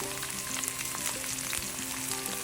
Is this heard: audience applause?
no